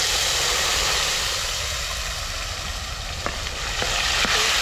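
Onion and tomato paste with garlic sizzling loudly in hot oil, a steady broadband frying hiss that carries on without pause, with a few faint clinks of a spoon near the end.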